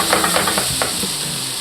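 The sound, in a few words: cherry tomatoes added to pan of onions, sizzling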